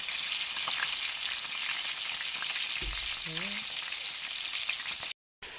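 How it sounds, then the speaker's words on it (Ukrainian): Fish frying in a pan gives a steady, close sizzle throughout, with a brief clunk partway and a short dropout near the end. "Смажена рибка смачненька."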